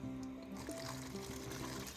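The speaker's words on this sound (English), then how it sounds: "so it's time to rinse that off. So use some boiled water." Boiled water trickles and pours over a fisher skull during rinsing after a peroxide soak, a steady close liquid splashing and dribbling with faint tonal hum underneath.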